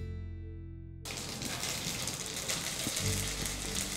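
Mustard seeds crackle and splutter in hot oil for rasam, a dense close sizzle that begins abruptly about a second in and continues steadily, with scattered sharp pops and no talking.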